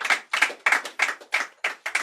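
Audience at an oratory competition clapping for a speaker, about eight crisp, evenly spaced claps in a steady rhythm, close and clear with no talk over them.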